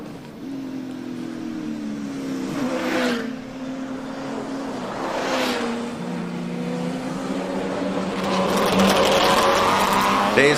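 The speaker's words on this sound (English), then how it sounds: "Let's listen to the AMG." An AMG race car engine at a hillclimb, a sustained engine drone that swells and rises in pitch as the car revs and accelerates, heard from a distance with crowd and commentary noise around it.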